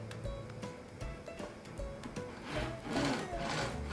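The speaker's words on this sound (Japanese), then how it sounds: "これお掃除に使っていくものもニトリのカーペットクリーナーなんだけど" A Nitori carpet cleaner brush with diagonally cut bristles scrubs across a carpet, giving close repeated rubbing and scraping strokes that grow louder and denser toward the end, with no talk over it.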